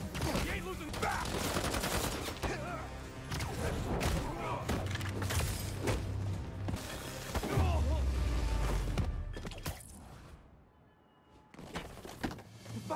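Fireworks bursting in Marvel's Spider-Man 2, rapid crackling pops and thuds in dense volleys over game music and voices, fading near the end before a few more bangs.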